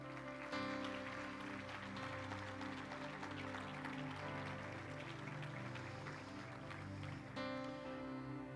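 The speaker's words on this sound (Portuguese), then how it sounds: "Dá um aplauso aí, irmãos." Church congregation applauding in a steady, sustained wash of many hands over a sustained organ or keyboard chord, moderately distant and fairly quiet, with a brief shift near the end.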